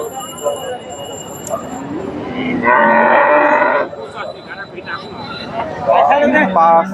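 Friesian dairy cow lowing at a busy Bangladeshi cattle market, one long loud moo in the middle and another toward the end, with crowd chatter and people talking throughout.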